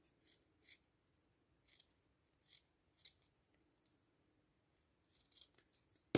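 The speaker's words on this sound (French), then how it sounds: "Et je viens couper ce qui dépasse." Scissors snip through excess material on a homemade Christmas craft train, a series of short, crisp, close cuts spaced irregularly across quiet pauses.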